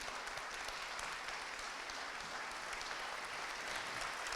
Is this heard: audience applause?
yes